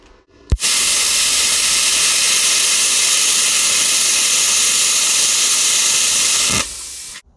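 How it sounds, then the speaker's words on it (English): A Simder CUT 50 plasma cutter cuts 1/8-inch painted metal with a sharp arc start, then a loud steady roaring hiss that holds for about six seconds before cutting off abruptly. "1/8 inch. Painted metal. This thing is cutting like butter."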